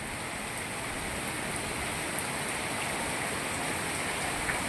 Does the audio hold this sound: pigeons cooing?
no